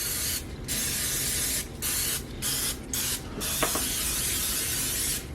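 Non-stick cooking spray hisses onto a muffin pan in a series of close, loud bursts, about five sprays separated by short pauses, with no talking.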